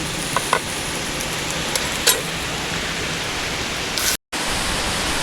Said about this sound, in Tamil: சூடு ஆறினோடனே நம்ம மிக்ஸி சாரில் போட்டு